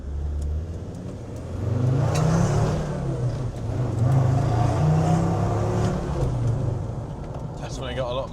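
A Td5 diesel car fitted with a GTB450 turbo accelerates on a road test, its engine drone rising and falling steadily and close by, with people talking over it.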